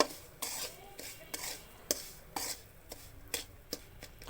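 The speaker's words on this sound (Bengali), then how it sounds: "এটা দিয়ে একটু নাড়বো আমি।" A spoon stirs cheese pasta ingredients in a pan, with soft scraping strokes and a few sharp clinks against the metal, repeated in an uneven rhythm, quiet and close.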